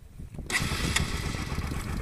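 A Bajaj Pulsar 200 NS motorcycle engine cranks and catches after a brief quiet moment, then settles into a steady close idle.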